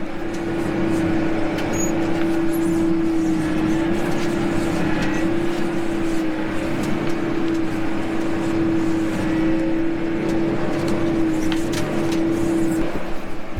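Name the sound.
farm vehicle driving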